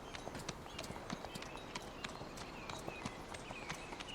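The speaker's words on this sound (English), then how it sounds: "heavy wagons, 4 horses on each wagon, draft horses, as well as mounted guards on separate horses" Hooves of draft horses pulling heavy wagons, four to a wagon, with mounted guards riding alongside, clip-clopping in a steady, busy patter of overlapping steps, fairly faint and distant with no talk.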